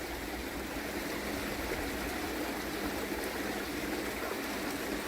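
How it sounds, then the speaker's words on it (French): Small river flowing beside a temple entrance in Hiroshima, Japan, a steady continuous rush and trickle of water filling the scene at moderate level with no break. "Une espèce de petite rivière là qui coule."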